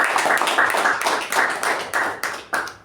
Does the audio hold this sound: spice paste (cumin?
no